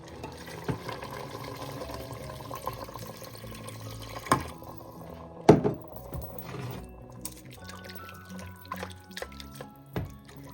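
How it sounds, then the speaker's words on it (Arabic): Water poured into a pot of meat for a Moroccan meat and artichoke dish, a quiet trickling and dripping with a few clinks of the pot, fairly close and soft. "دابا غادي نضيف ليها الماء اللي غادي طيب فيه"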